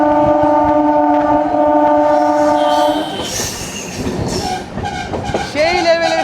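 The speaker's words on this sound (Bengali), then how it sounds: "তাই একদম কিন্তু নির্বিঘ্নে ট্রেন মানে স্পিডে এগিয়ে চলবে" A train passes a manual level crossing on a single-track line: a long, loud, sustained horn blast is followed by a dense rumble and clatter of wagons rolling by up close.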